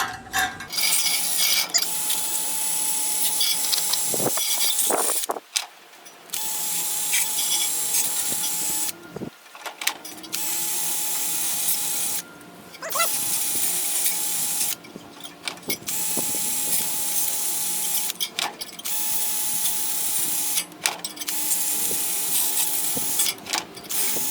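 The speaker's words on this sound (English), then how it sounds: "Time for some wire wheeling." Wire wheel scrubbing a part from a junked John Deere mower, a harsh high-pitched rasping hiss in repeated passes with short gaps as the tool is lifted, close and fairly loud, with no talking.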